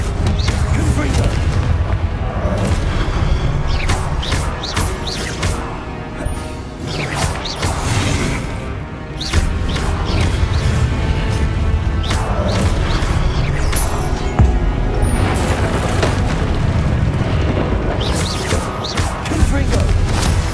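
Repeated Confringo fire blast spells explode in Hogwarts Legacy on PS5, loud booming blasts and crashing impacts stacked over a constant roaring rumble of battle noise, with bursts recurring every second or two.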